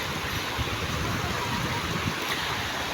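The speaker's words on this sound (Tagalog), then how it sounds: "Grabe, sobrang baha dito guys, oh." Flood water rushing through a street in Mindanao, a dense, steady roar of churning water close by, continuous for the whole stretch with no talk over it.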